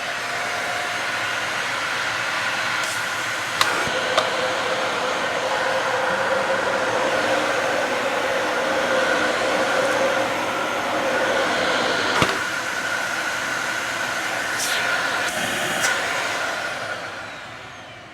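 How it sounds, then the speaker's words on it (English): A high-mileage Dyson Ball UP19/UP13 vacuum cleaner motor whines steadily and loudly for about eighteen seconds, a rough, slightly unhealthy tone with a few clicks and knocks, before winding down at the end. "that motor doesn't sound the healthiest"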